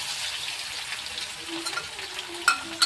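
Mustard seeds, cumin and garlic crackle and sizzle in hot oil in a pan, a steady soft frying hiss with scattered pops and a few louder spits, no voices.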